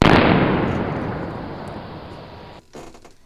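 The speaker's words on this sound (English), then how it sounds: "The echo of the gunshot reverberates up the river." A single loud gunshot over a river booms and rolls away upriver in a long fading echo, followed by a faint rustle.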